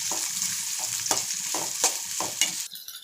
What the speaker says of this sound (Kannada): ಈರುಳ್ಳಿ ಕಟ್ ಮಾಡಿ ಇಟ್ಕೊಂಡಿದ್ನಲ್ಲ ಅದು, ಸ್ವಲ್ಪ ಫ್ರೈ ಮಾಡ್ಕೋಬೇಕು